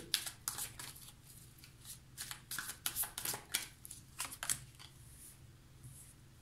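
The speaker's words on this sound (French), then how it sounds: "Je vais tirer 4 cartes du tarot et je vais tirer 6 cartes de l'oracle bleu." Tarot and oracle cards shuffled and drawn at close range in quick bursts of riffling and snapping, several sharp flicks followed by softer slides toward the end, with no voices.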